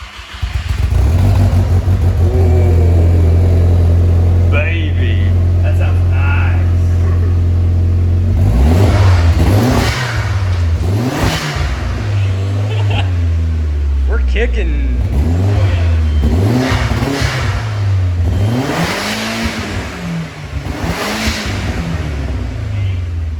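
A 2001 VW Golf GTI with a custom replacement exhaust starts and idles with a deep, loud drone, then revs in several sharp rising and falling bursts while people talk nearby.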